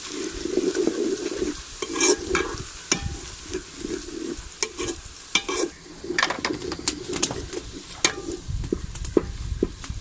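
Onions fry in a pan for a kofta curry, a bright sizzle under frequent sharp scraping and stirring strokes, with birds cooing faintly in the background and no talking.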